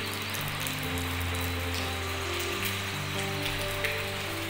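Rain falls steadily on a house yard amid greenery, a constant close patter with a low hum in the background and no talking.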